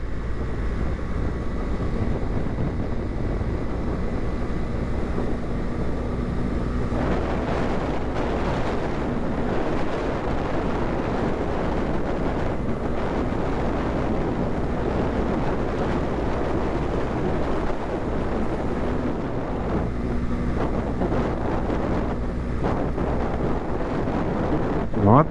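A motorcycle rides along a country road with dirt on it, heavy wind buffeting the microphone in a constant roar over a low rumble, with a muffled voice talking at times.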